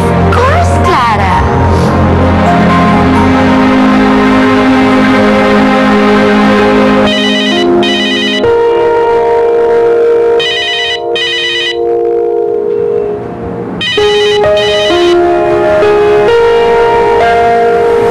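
A telephone ringing in a loud, sustained electronic bell pattern with repeated trills and brief pauses, close and prominent, with music or voices mixed underneath.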